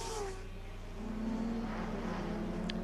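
GT race cars at Charlotte Motor Speedway rumble through a chicane, engines droning and shifting pitch as cars brake and accelerate at moderate distance, with steady low roar throughout.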